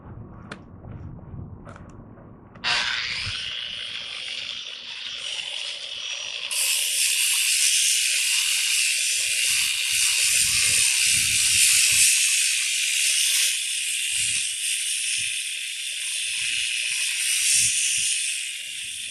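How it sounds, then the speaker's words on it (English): A polisher with a 200 grit pad works a granite surface, a loud, steady whirring hiss that starts abruptly, grows stronger a few seconds later and runs continuously with a few low knocks underneath. "start my polishing with the 200"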